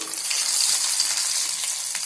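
Spices, chana dal and dried red chillies sizzle and crackle steadily in hot oil in a pan, a continuous close frying hiss with small pops and no voices.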